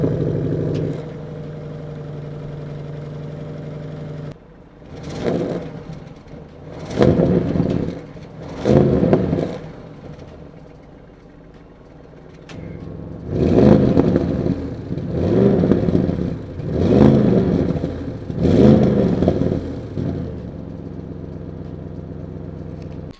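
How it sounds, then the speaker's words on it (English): A 2021 Audi RS6 engine idles with a low hum, then revs up repeatedly in short bursts, several sharp climbs and drops in a steady rhythm. "let's do a quick sound test of what this car sounds like in the different modes"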